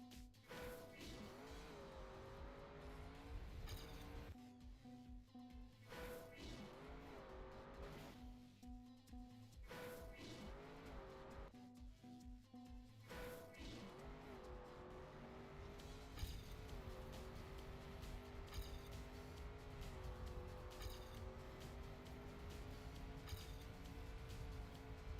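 Canyon race car in the Trackmania video game, a sustained engine whine that rises and falls with gear shifts and revving, cut by short gaps and occasional tire squeals, loud and continuous over about twenty-five seconds.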